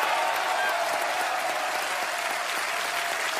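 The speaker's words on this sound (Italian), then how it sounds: "quindi facciamogli un applauso" A television dating-show studio audience applauds a Jack Sparrow impersonator, Johnny Depp's official double: a continuous, even wash of many hands clapping, moderately loud and sustained throughout.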